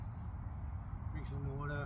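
Steady low rumble of road traffic in the background at an urban campsite in Canberra, Australia, with a brief voice rising over it near the end.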